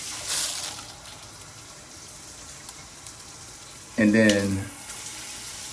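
Water sprays from the middle sprayers of a Delta Nura faucet, a steady soft hiss throughout. A person speaks briefly near the end.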